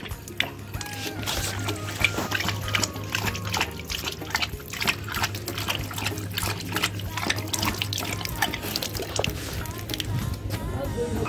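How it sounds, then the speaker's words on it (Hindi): A dog laps drinking water in rapid, rhythmic wet slurps that repeat steadily, close up over a constant low hum, with a voice speaking now and then. "कमेंट करके बताना कि आपका डॉग कैसे पानी पीता है।"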